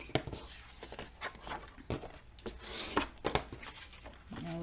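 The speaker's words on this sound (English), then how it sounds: "burnish that down" A paper flap is burnished down for a handmade pink book page, with close, dry rubbing and scraping strokes repeating in quick uneven bursts at low volume.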